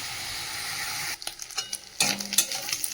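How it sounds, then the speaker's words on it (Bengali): Prawns fry in hot oil in a pan, giving a steady close sizzle that turns into spattering bursts and scraping as they are stirred. "চলো চিংড়ি মাছটা ভাজা হোক ততক্ষণ।"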